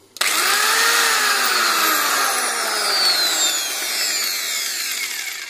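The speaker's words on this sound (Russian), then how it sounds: "Начинаем работу болгарки." A repaired angle grinder that had been rattling spins up with a sharp click and whines steadily, its high pitch gradually winding down toward the end.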